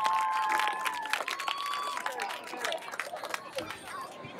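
Audience applauding a youth girls' soccer team at a club senior night, steady clapping with scattered cheers and crowd chatter throughout.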